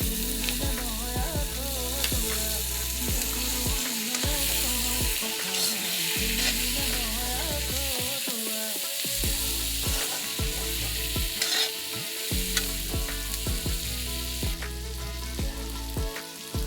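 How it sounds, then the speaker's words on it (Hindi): Pieces of pre-boiled pork frying in a pan for an Assamese-style pork dish, with a loud, continuous sizzle and occasional stirring scrapes running close up, with no talking. "अब इसे भी हम इसमें डाल के थोड़ी देर तक फ्राई कर लेंगे।"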